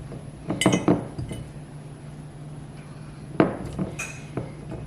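Peeled eggs go into a clean half-gallon glass jar with a few sharp glassy clinks and knocks, two clusters of close contacts separated by a quiet stretch with a low hum underneath.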